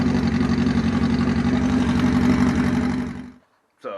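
Chopper motorcycle engine running close up with a loud, rough low throb that cuts out abruptly near the end, leaving a short silence before another sound begins.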